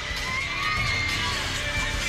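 Big crowd at a Michigan vs Nebraska women's college volleyball match inside Crisler Center, with steady cheering, shouts and whoops filling the arena without a break.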